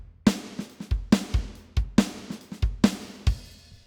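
A programmed MIDI drum pattern with a slightly open hi-hat, steady sharp hits about twice a second over a low thump, each hit leaving a short bright sizzle, played alone with no talking.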